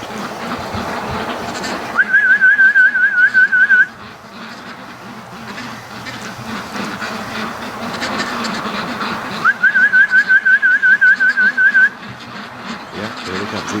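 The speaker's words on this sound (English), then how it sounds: "As soon as they hear me whistling." A person whistles to call ducks, giving two bursts of rapid, warbling trills a few seconds apart, loud and close, with quiet outdoor background and faint duck sounds between them.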